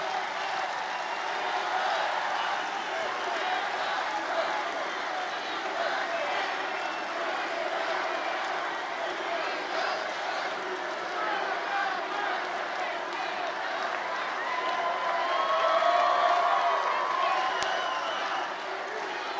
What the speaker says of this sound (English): It's a big crowd of people.